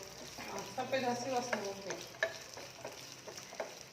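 Onion and capsicum hit hot oil together, sizzling and crackling with uneven spits and bursts of stirring, fairly soft and close, with no one talking.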